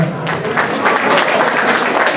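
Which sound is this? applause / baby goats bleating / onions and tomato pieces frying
applause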